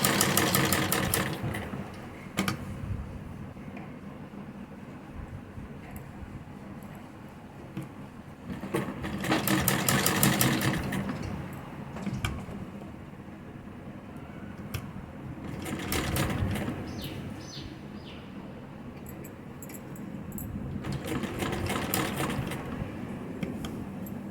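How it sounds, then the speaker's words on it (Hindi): A sewing machine stitches black lace along a shaped neckline, running in several long bursts of steady mechanical whirring with quieter gaps between runs, close and clear with no talk. "नीचे की तरफ जो हमने शेप दी है उसी की शेप से हम इस तरह से सिलेंगे।"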